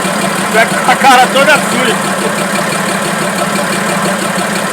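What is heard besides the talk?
Fiat 190 tractor engine idling after starting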